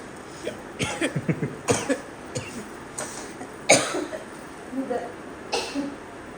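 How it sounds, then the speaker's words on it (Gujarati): Several harsh coughs in quick bursts, with throat clearing mixed among them, close and fairly loud against a quiet room. "ઉધરસ"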